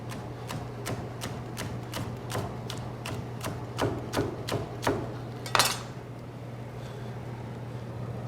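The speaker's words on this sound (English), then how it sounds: "I'm going to take some green onions. And I'm just going to cut them on a bias." A knife chops green onions on a bias against a cutting board, about fourteen evenly spaced crisp taps up close over a low steady hum, ending with a brief scrape.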